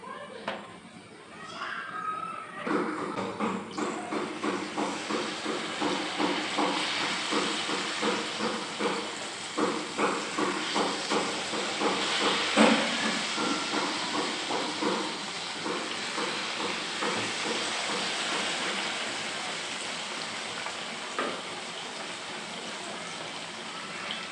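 Banana fritters (pazham pori) frying in hot oil, giving a steady close sizzle and hiss with dense crackling that carries on throughout, with no voice over it.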